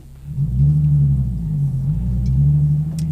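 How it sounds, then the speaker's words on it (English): A manual car pulling away as the clutch is let out under throttle, a steady close low engine drone that swells slightly and holds for a few seconds. "quickly do that process of letting off the clutch and giving it gas"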